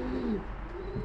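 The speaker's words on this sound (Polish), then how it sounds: "siadają gołębie pojedynczo" A racing pigeon gives a brief, low, throaty coo close by against a dull background rumble.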